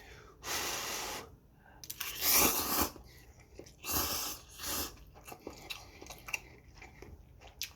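Someone eats a meal of eggs, two portions of ramen and french fries up close, with loud crunchy bites, wet chewing and slurps, and audible breaths between mouthfuls.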